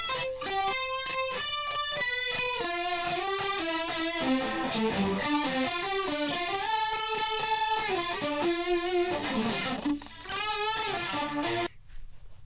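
Layered music tracks, likely guitar and synth lines, processed through the Airwindows StereoDoubler stereo effect, playing steadily with a bright, doubled, slightly distorted texture before cutting off near the end, no talking.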